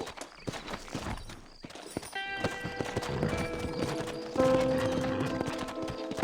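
Horse hooves clip-clop in the Red Dead Redemption game, a run of rhythmic hoof strikes with a whinny, mixed with western-style music and brief character talk.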